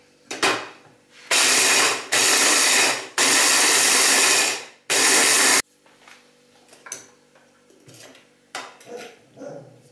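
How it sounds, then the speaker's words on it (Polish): Several loud bursts of a blender motor grinding biscuits to powder, each a few seconds long with short gaps, followed by quieter clattering and handling noises. "Najpierw muszę zmielić na pył herbatniki. Zrobię to za pomocą blendera."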